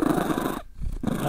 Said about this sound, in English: if you can hear purring